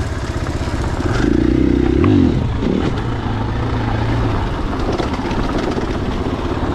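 A 2021 KTM 500 EXCF dual-sport dirt bike engine thrums loud and close while riding, a steady rumble with a brief rev swell, amid wind and clatter.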